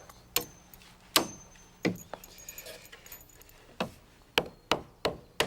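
Sharp hammer blows driving 16d nails into a wooden framing block, about nine crisp, close strikes at an irregular pace with short gaps between.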